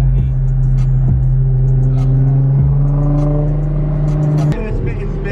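A BMW 335xi rumbles loudly with a steady droning engine note under repeated rising revs and shifts, ending in an abrupt cut and pop; voices can be heard over the engine.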